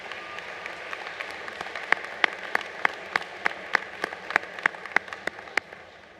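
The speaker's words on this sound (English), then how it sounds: "give them a round of applause for all of they've done for you throughout your journey." Audience applause at a Barton County college commencement ceremony honoring graduates' families, with sparse, distinct claps that build into steady clapping and then fade out.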